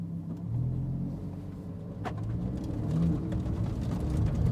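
A 2023 Lamborghini Huracan STO on a public road makes a low, steady engine and road rumble heard from inside the car, with a brief sharper knock partway through.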